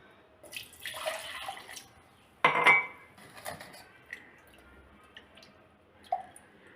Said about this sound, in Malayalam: വെള്ളം കൂടി ഒഴിച്ച് കൊടുക്കുക.